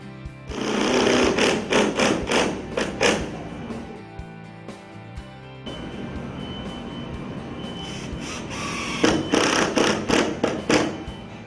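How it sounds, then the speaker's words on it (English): A power drill whirs in several short bursts, drilling pilot holes along the molded nose of entry door cladding, with thumps and taps between them and a steadier grinding run near the end. "Continue drilling pilot holes on 8-inch centers along the length of the molded nose"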